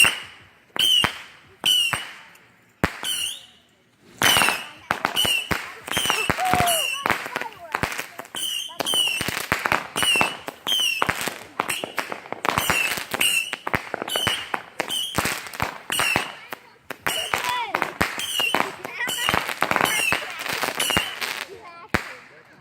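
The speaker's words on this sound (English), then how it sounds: "This is fireworks here." Fireworks and firecrackers bursting in a rapid, irregular string of sharp cracks and pops, some close and loud, with brief gaps between volleys and occasional voices in the background.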